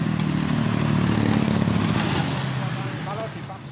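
Honda Beat FI scooter engine stuttering under mid-range throttle, a loud, close, continuous engine note that holds steady and then drops slightly toward the end.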